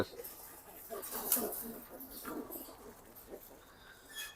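Soft pigeon coos and a few faint bird calls in a quiet space, with occasional low murmurs of speech in the background.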